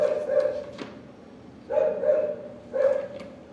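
Three short bursts of barking from street dogs some distance away, separated by brief quiet gaps.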